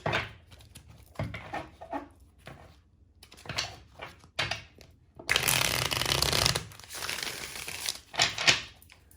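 Tarot cards are shuffled and pulled by hand in a series of crisp riffling and slapping bursts, close and fairly loud, with a longer dense flurry midway through and no talking.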